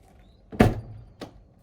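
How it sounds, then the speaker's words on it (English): A camper trailer door on a 4WD camper swings shut with a solid thunk, followed a moment later by a softer second knock as it settles or latches, close and alone. "door closes"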